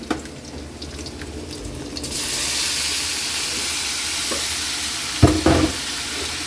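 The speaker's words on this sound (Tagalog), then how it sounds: "Igigisa na natin yung pork." Pork sautéing in a pan for Filipino pork menudo: a quiet clatter at first, then a sudden steady loud sizzle from about two seconds on, with a couple of brief stirring knocks near the end.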